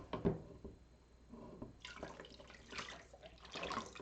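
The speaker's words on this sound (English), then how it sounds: "All right, there's the lye water in." Lye water for oatmeal soap is poured into a container, a soft close trickle and splash that starts with a small knock and builds into a faint, uneven liquid pour.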